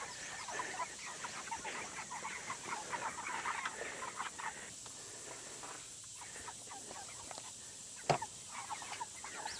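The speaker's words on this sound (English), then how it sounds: "I want to show you one of these meat chickens real quick" Meat chickens cluck and murmur steadily throughout, a busy flock close by on a farm with a sharper squawk near the end and no talking.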